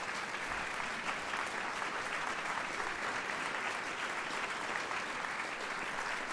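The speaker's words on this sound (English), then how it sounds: "I want you to experience the applause for sharing your family story" An audience at a 2021 Chocolate Sunday gathering claps steadily and continuously, a dense wash of many hands at even volume from start to finish without talking.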